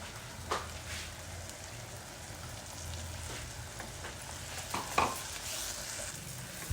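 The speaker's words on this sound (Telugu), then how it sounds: "మంచిగా వేయించుకోవాలి నూనె అంతా పైకి వచ్చేట్టు వేయించుకోవాలి సిమ్ మీద సిమ్లో వేయించుకోవాలి" Ground spice paste frying in oil on a low flame, a steady soft sizzle with occasional stirring scrapes and clicks from the pan, close and continuous with no talking.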